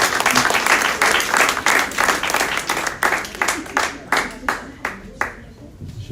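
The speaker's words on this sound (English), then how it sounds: "And let's give us applause." Audience applause at a health talk, a dense burst of many hands clapping that thins out toward the end into scattered separate claps, with some voices mixed in.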